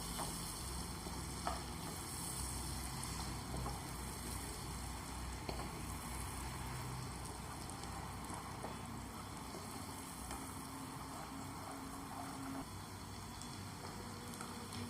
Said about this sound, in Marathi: हा 1 कांदा घेतलाय मी बारीक चिरून, हा घालूया। याला फ्राय करूया।